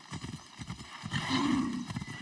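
Hooves clip-clop in a quick galloping rhythm as a horse runs in Assassin's Creed Odyssey, ending in a loud neigh partway through, with game ambience behind it.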